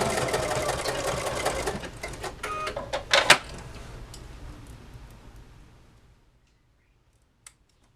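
A sewing machine backstitching a fabric face mask, a loud close rapid whirring stitch that runs back and forth, then slows with a few clicks and fades to quiet.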